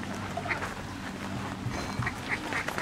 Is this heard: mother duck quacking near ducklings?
yes